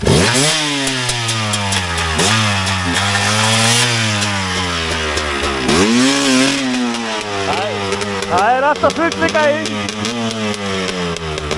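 A motorcycle engine is revved hard several times at close range, its pitch sweeping up and falling back, while people talk in Icelandic over it.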